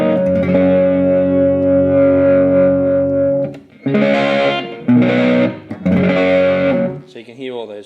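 Electric guitar through a JK Pedals Sunday Arvo Drive overdrive with the tone raised, a long sustained chord followed by three punchy, bright stabbed chords, loud and alone, ending with a short string slide.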